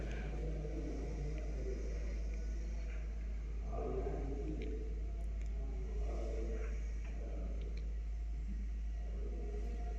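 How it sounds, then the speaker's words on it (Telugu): Road traffic near Srisailam dam, a steady low engine rumble with cars passing at moderate distance, continuous through the whole stretch with no voices. "ఎంత ట్రాఫిక్ ఉండిపోయిందో దగ్గరలో కూడా."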